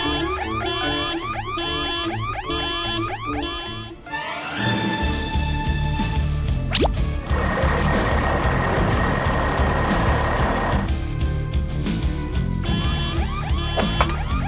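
A cartoon truck speeds off down a road in an animated vehicle story, with engine noise and beeping tones layered over bright background music throughout.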